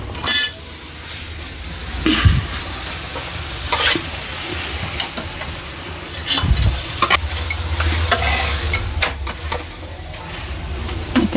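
Spicy goat head curry frying in a pan while being stirred, with a close sizzle, repeated scraping and clinks of a spoon against the metal, and occasional sharp knocks.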